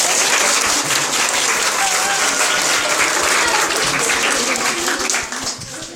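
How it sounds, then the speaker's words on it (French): Dense, loud applause fills a room as an audience claps continuously, a thick wash of overlapping hand claps that holds steady and then thins slightly at the end. "Eh ben, on peut l'applaudir."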